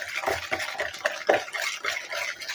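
A spoon stirs baking powder and cardamom powder into a biscuit mix in a bowl, giving a run of soft, close scraping and swishing strokes with a few light clinks against the bowl, and no voice over it.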